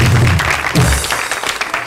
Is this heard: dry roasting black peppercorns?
no